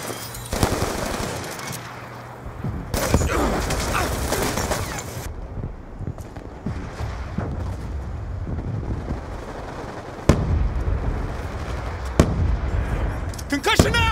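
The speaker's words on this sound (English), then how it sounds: "Throwing frag!" Frag grenade explosions amid heavy automatic gunfire in the Black Ops 2 shooter game on the Plaza map, sharp booming blasts standing out over rapid rattling shots, with in-game voices calling out.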